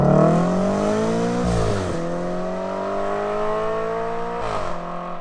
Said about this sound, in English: right off the bat, I knew this engine was going to be good